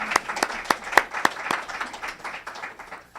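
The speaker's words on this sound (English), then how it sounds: "So I think we should clap for that." A lecture audience at a book presentation for an Afro-American collection claps, with a few sharp close handclaps ringing over a steady moderate round of applause that continues evenly and slightly softens toward the end.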